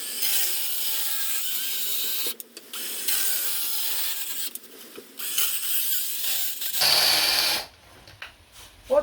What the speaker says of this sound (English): you make multiple cuts and just sort of zigzag the saw, and that will take out all the wood in between.